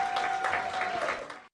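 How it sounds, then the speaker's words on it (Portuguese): Members of a Brazilian congressional special committee on anti-corruption measures applaud judge Sérgio Moro with a dense, even burst of clapping that stops abruptly after about a second and a half. "o magistrado foi aplaudido"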